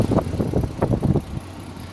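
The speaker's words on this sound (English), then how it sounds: "The engine's purring." A Ford XG, an ex-police divvy van, idles after new belt pulley bearings and air-conditioning work, giving a smooth, steady, low engine rumble close by with no speech over it.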